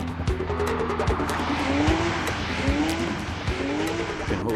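A powerful GT3 sports car drives hard close by, its engine roaring and revving steadily for several seconds, with tyre noise underneath and no talk.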